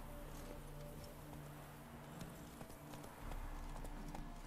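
Roach the horse's hooves clip-clop at a steady trotting rhythm in The Witcher 3, soft and fairly close over a low ambient game soundscape.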